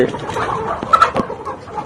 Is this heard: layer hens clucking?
yes